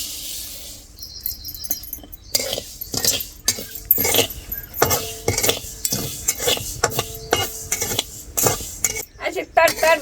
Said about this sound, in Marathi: आता 100 ग्राम मोहरी आपण ही भाजून घेऊ